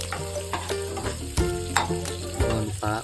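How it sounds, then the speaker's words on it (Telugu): Spices crackle and sizzle in hot oil, close up, with scattered clinks of a spoon stirring the pan and a faint tonal hum underneath. "బాగా తాలింపు వేగాలి అవన్నీ వేగాలి"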